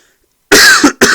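Two sharp, close coughs, the first longer and harsher, the second short, after a moment of silence.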